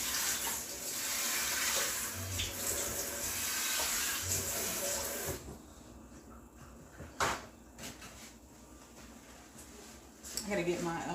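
Hot water gushes steadily from a kitchen tap in a loud, continuous broadband rush for several seconds. It then stops and is followed by quieter room sounds and a few clunks.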